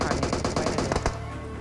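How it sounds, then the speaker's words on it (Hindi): Rapid automatic gunfire from a mobile battle royale shooter game, a quick burst of about ten evenly spaced shots that stops abruptly, leaving a low hum behind. "अब यहाँ से मैं कुछ शॉट लेता हूँ लेकिन एक भी बुलेट उससे कनेक्ट नहीं होती"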